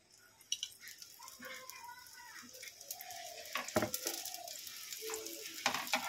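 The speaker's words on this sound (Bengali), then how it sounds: "এটাকে একটু ভেজে নেব" Egg-stuffed paratha fries in white oil in a pan, giving a steady moderate sizzle with scattered utensil scrapes and clinks that grow busier toward the end.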